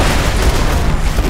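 Dense, loud rumbling blast mixed with crackling gunfire from a grenade going off in Borderlands 2, a continuous booming wash with no clear gaps.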